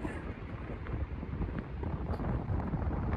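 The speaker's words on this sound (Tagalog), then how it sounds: "Mahangin dito sa labas." Strong wind roars steadily across the microphone outside on the deck of the cruise ship Queen Mary 2, a continuous buffeting rush with a low rumble beneath, without speech.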